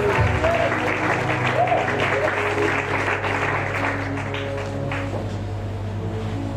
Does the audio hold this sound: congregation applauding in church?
yes